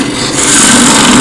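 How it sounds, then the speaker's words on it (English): A deep fluted bowl gouge cuts into a redgum box spinning on a lathe, giving a loud, steady, close-up rasping whir with a sustained tonal hum, heard alone with no voices. "That's using the deep fluted bowl gouge."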